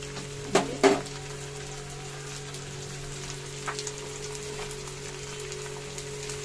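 Green chilli and capsicum fry in a pan for a chilli cauliflower dish, giving a steady, soft, rain-like sizzle with two sharp utensil knocks near the start and faint clicks later.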